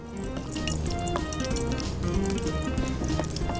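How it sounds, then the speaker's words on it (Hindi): Cinnamon stick, a couple of cloves and small cardamom pods frying in hot oil in a pan, a steady close crackling sizzle with small pops throughout, no voices. "इसको थोड़ा सा फ्राई कर लेती हूँ"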